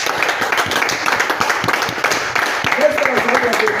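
A church congregation claps in praise, a dense steady patter of applause mixed with voices and background sound throughout.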